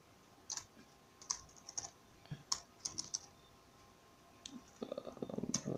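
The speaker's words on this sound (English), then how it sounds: "Now you have to type in your email address." Keys clatter on a computer keyboard as an email address is entered while signing up to sell on Jumia, with quick irregular bursts of clicks separated by short pauses and a denser flurry near the end, close and fairly quiet.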